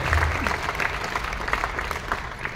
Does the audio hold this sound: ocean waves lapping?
no